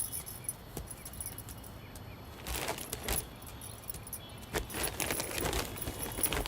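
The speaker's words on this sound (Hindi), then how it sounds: "और ताला लगा के ताला की चाबी मुनिया को दे देना।" A bunch of keys jangles in sharp, irregular metallic bursts while a door is being locked, close by against a quiet indoor background.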